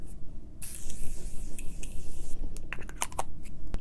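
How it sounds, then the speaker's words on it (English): Morphe makeup setting spray is misted during a smoky eye application, a hissy spray burst lasting about two seconds up close, followed by small clicks and rustling. "Okay, so now I'm going to use my Morphe setting spray."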